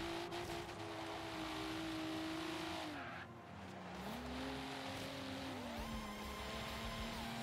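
A racing car's engine in Forza Horizon 3 drones loudly and steadily, its pitch dipping briefly and then climbing again as it revs, with some tire noise underneath.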